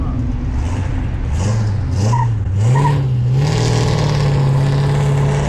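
A classic car called Mango pulls away, its engine rising in a steady rev with a rough, rumbling exhaust that holds loud and close for several seconds.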